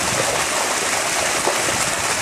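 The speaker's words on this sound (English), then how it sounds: "This is the water that's coming off my development and right into the aquifer." Stormwater pours into a sand filter diversion manhole, a steady broadband rushing of flowing water, close and continuous without voices.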